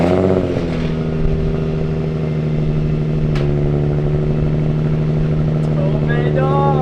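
A Z car fitted with a TOMEI exhaust and carrying an exhaust leak runs at a steady, loud, droning idle, holding one even tone throughout, with brief voices near the end.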